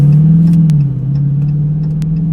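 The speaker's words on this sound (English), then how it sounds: "I just love the way a nice, nicely sorted V8 car sounds" A Dodge Challenger R/T V8 engine drones loudly and close, a deep steady rumble that dips slightly then holds, with faint clicks and ticks over it.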